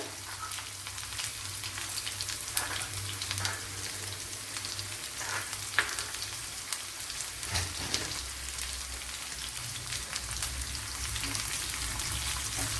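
Shallots and mustard seeds fry in hot coconut oil, giving a steady, dense crackling hiss with scattered pops, close by and continuous throughout.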